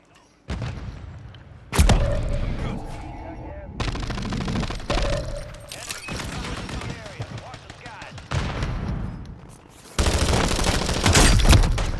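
Repeated bursts of light machine gun fire in a Call of Duty video game, loud rapid automatic shots with thuds between them, with excited players talking over the firing.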